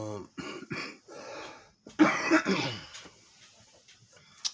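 Someone coughs and clears their throat several times close by, mixed in with bits of talking.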